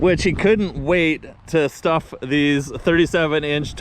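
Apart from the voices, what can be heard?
No everyday noise stands out behind the speech.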